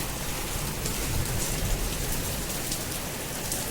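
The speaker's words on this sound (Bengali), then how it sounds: "এখন তো বৃষ্টি হচ্ছে, এখন অল্প অল্প পড়ছে" Rain falls heavily just after a hailstorm, a loud, dense and unbroken hiss of drops striking surfaces close by, with no voices.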